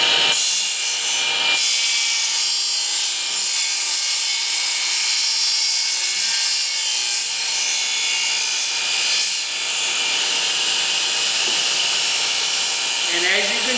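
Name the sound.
saw taking a skim cut on the back corner of a jig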